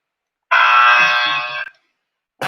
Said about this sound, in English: The buzzer is back.